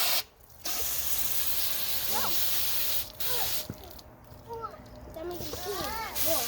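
Garden hose spraying water onto rocks outdoors, a steady broad hiss and splatter running through most of the moment with a brief break, while children's voices chatter over it.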